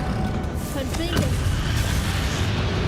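A Confringo blasting spell explodes in the video game Hogwarts Legacy during the fight with Ranrock, a dense, rumbling boom that fills the whole stretch over a steady wash of game sound, with a voice heard around it.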